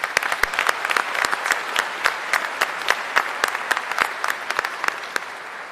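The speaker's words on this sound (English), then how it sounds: "let's please recognize her with applause" Commencement audience at a military health sciences university applauds an award recipient, with sharp, distinct individual claps standing out over a steady bed of clapping from a sparse crowd.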